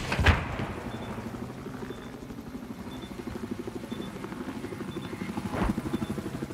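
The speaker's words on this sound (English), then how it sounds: "And here comes a helicopter." Rapid rhythmic thumping of helicopter rotor blades in a Battlefield video game chops steadily throughout, fairly close, with a couple of dull thuds at the start and near the end.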